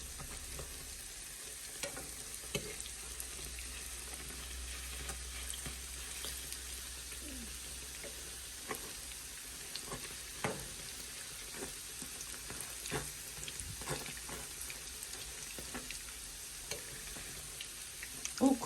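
Buckwheat fritters (uštipci) sizzle steadily in hot oil and are flipped, with a continuous bright frying hiss and faint scattered clicks throughout, no voices.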